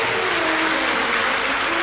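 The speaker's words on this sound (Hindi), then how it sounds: "एक बार जोरदार ताली बजाकर उनके लिए साधुवाद" Sustained applause from an audience at a live Shiva Mahapuran religious discourse, a dense steady wash of clapping throughout with no pauses.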